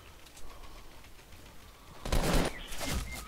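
Gunfire in the Fortnite video game during a close fight near a player's base. After a quieter stretch, two loud, dense bursts of shots hit close by.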